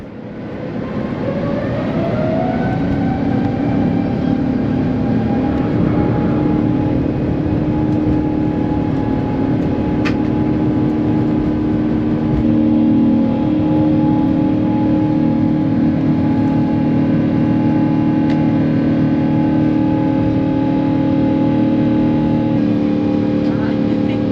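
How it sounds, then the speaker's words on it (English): An airliner departing Dubai International Airport, heard from inside the cabin during pushback: a steady, loud engine drone and hum spools up in the first seconds and then holds, with faint speech mixed in. "we were pushed back for an on-time departure out of Dubai International Airport"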